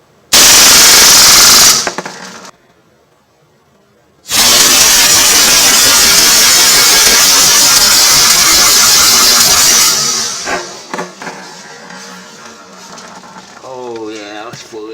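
An M712 CO2 airsoft pistol fires fully automatic in two loud, rapid, continuous bursts, a short one then a longer roughly six-second stream, followed by trailing clatter and a voice speaking.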